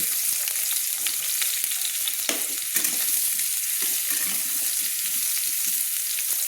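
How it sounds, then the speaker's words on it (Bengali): Kohlrabi and potatoes fry in a pan with a constant loud sizzle, broken by occasional scraping and stirring knocks, close up and with no voices. "একসঙ্গে আমি ওল কপি আর আলু একসঙ্গে লাল লাল করে ভেজে নেব"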